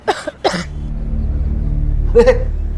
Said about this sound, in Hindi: भाभी जी को खांसी आई